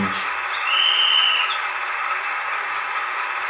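A brief high-pitched whistle tone from an SM42 diesel locomotive lasting about a second, sounding over a continuous loud hiss of air.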